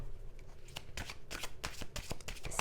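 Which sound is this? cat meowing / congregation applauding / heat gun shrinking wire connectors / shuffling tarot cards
shuffling tarot cards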